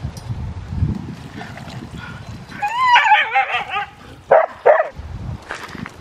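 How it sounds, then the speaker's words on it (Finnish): Dogs in a kennel yard making a loud racket of barks and yelping whines, several sharp bursts in the middle and near the end over low shuffling background noise. "Kauhean meteli tuolla koiriksella"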